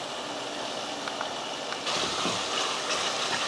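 Background hiss, then water suddenly starts pouring into a cooking pot of sautéed vegetables for dal rice partway through, a steady splashing rush that continues to the end.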